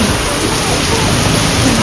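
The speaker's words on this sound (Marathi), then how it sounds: "गाईज आता आम्ही निघत होतो बीचवर जायला आणि पाऊस सुरू झालाय." Rain pours down in Alibaug, a dense close hiss of falling water that stays loud and steady throughout the short stretch.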